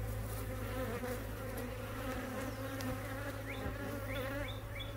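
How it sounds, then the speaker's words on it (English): Several bees buzz steadily nearby at a horizontal hive during feeding, a dense droning hum with faint chirping in the background. "There's a few bees interested in it."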